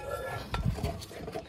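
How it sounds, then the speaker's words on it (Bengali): A large frying pan is lifted out of a kitchen rack, giving a short cluster of metallic clanks and clinks of cookware knocking together, fairly close and with no talk. "তো বড় ফ্রাই প্যানটা আজকে বের করবো।"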